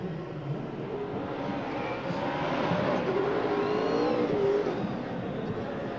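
A race car at Daytona International Speedway does post-race burnouts, its engine a steady droning roar heard from a distance with rising and falling revs under crowd and ambient noise.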